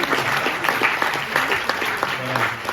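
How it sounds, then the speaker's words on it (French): An audience at a film premiere claps in sustained, dense applause that stays steady throughout, with some voices audible underneath. "On peut applaudir Bruno, oui, qui s'occupe du cinéma."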